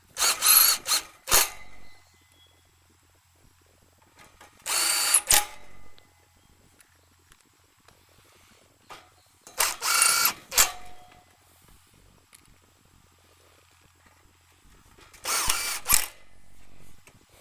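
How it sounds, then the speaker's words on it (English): A power drill drives screws into the collar of a Sunglo patio heater, with four short whirring bursts separated by quiet pauses, close and loud. "Replace our 8 screws that hold the collar to the post and heater head."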